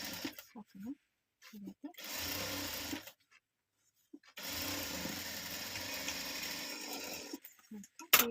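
A tailoring sewing machine stitches fabric in two long runs of steady whirring clatter, separated by silent pauses, with someone speaking briefly between them.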